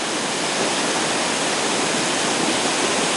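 Naydong Waterfall roars up close in a mountain forest, a dense, steady, broadband rush of falling water that fills the air without pause.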